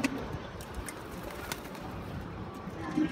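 Racing pigeons at an outdoor training release point in Lucena, Quezon, cooing faintly in short scattered calls over a steady open-air background.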